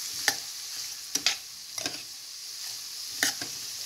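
Bottle gourd peel stirred in a hot pan with turmeric and cumin powder, a steady sizzle broken by about four sharp spoon scrapes and clinks, close and moderately loud with no talking.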